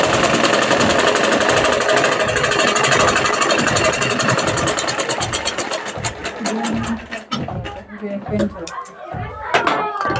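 Sewing machine stitching a half-inch seam along the folded hem of a blouse, a steady loud mechanical whir that slows and stops near the end, with someone talking over it.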